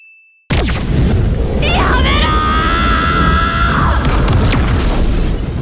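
A female character in the Danmachi anime lets out a long, loud, sustained scream after a sudden booming impact, set against a roaring blast of magic effects.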